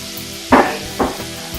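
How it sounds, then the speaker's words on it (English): Diced onion dropped into a pan of melted butter and olive oil, giving two quick bursts of hissing sizzle that settle into a steady low frying crackle, close and fairly loud. "To our melted butter and olive oil mixture,"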